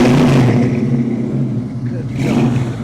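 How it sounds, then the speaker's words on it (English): A 1974 AMC Javelin AMX muscle car with a 401 GO Package V8 revs up close and loud, its deep rumbling roar swelling, easing slightly, then climbing again. "Rev the engine for me"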